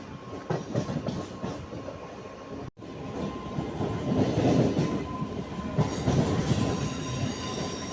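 A MEMU passenger train runs on rails between Karimnagar and Sirpur, giving a steady loud rumble with rhythmic wheel clatter and faint squeals, heard close from inside the carriage with no talking.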